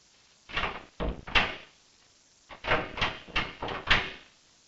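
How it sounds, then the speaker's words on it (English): A locked interrogation room door is pulled and rattled in repeated attempts, two bursts of loud knocking, thudding jolts separated by a short pause. "Mester makes his first attempt to open the locked door to the interrogation room"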